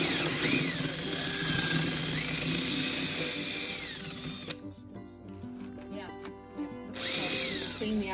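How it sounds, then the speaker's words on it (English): A big power drill whines loudly while coring out a cabbage head for sauerkraut, the motor steady for several seconds, then stopping briefly before spinning up again. "We're going to use a drill, a big drill, as you can see."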